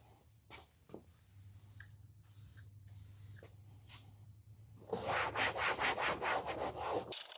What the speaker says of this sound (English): It's one little light coat, WD-40.